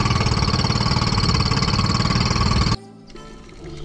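A boat engine runs loud and rough with a rapid knocking rattle, then cuts out abruptly, leaving quieter background noise.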